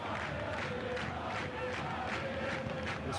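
Dense, continuous roar of a football stadium crowd in a video game, with chanting and cheering swells pulsing through a steady wash of noise, heard from within the stands with no clear speech.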